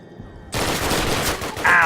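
Video game gunfire from German soldiers in Call of Duty erupts suddenly after a quiet half-second, a dense, loud, continuous burst of machine-gun and rifle shots with a sharp ringing crack near the end.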